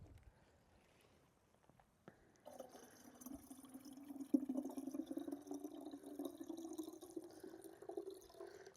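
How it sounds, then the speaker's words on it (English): Water soaked with banana peels being poured into a jar for plant fertilizer, a faint trickling fill with light splashes and drips that rise in pitch as the jar fills. "I'm just going to pour the water into this jar"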